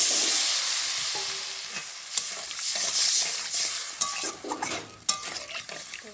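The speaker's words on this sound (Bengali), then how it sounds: "একটু ভেজে নেবো এইগুলো আমার ভাজা হয়ে গেছে" Vegetables stir-fried in a pan for a fish curry: soft, continuous sizzling with scraping stirs and a few sharp utensil clacks against the pan, fairly quiet and without speech.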